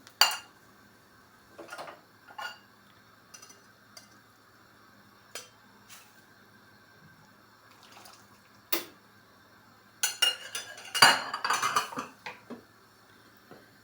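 Ingredients land in a pan of chicken meatballs, with scattered metallic clinks of a utensil against the pan and a busier burst of stirring and scraping toward the end; no speech.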